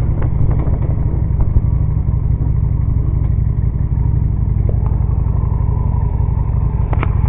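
A moped riding along a highway in Anderson, South Carolina, its small engine droning steadily under loud wind rumble and occasional road clatter, with no talking.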